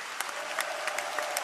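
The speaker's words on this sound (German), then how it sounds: "Also Applaus für euch Jungs, auch unter den ganzen Umständen mit Maske und so." A studio audience claps for the stage crew between performances at a televised singing show, a short burst of dense, steady applause with a few sharper claps standing out.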